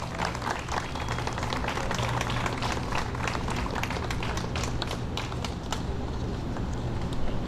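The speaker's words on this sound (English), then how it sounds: "Round of applause." Audience applause for La Casa de Samuel at a Chicago Neighborhood Opportunity Fund grant event, a continuous crackle of many hands clapping at steady volume.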